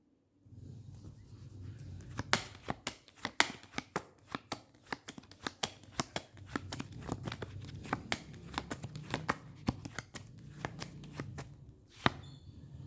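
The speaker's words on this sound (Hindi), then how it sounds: "night of cups" Tarot cards are shuffled by hand at close range, a continuous papery riffle punctuated by sharp snapping card clicks at an irregular, busy rhythm.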